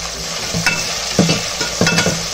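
Four medium chopped tomatoes go into a hot pan of frying masala chitranna base, sizzling steadily while a spoon stirs and scrapes in short bursts.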